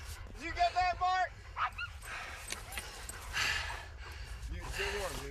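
Sled dogs in snow yipping, howling and barking in excited bursts close by, with people talking and shouting over the pack.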